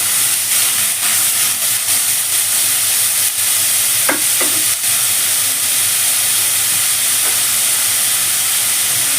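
Onions frying in a pan for carrot egg bhurji give a steady, loud broadband sizzle with a few short scraping stirs, no talking.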